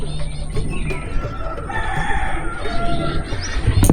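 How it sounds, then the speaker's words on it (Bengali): Chickens and ducks call at a lakeside resort in Baranti, with clucking and crowing fowl sounding fairly near and continuous over outdoor background noise, with no talk. "এখানে হাঁস, মুরগি এসবের ডাক শোনা যাচ্ছে"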